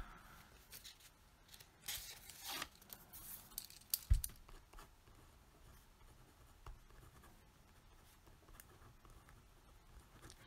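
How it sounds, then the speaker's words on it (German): Marker or chalk writing on a board during a physiology lecture, a few scratchy strokes and taps at a moderate distance in a quiet room, with no talking. "Ich schreibe das mal schnell da auf."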